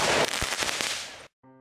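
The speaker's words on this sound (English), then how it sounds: "explosions!" A short burst of loud, crackling blasts with sharp pops, ending abruptly before a faint tonal sound.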